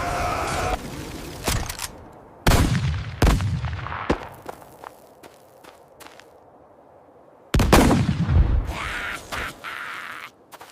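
A cannon fires in a burst of sharp, loud blasts at irregular intervals, each booming report decaying quickly, with a second cluster of shots after a pause and no voices.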